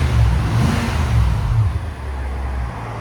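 A Nissan Armada's 5.6L V8 revs through an aftermarket exhaust, a loud, deep rumble swelling and holding before easing off toward idle, close to the tailpipe.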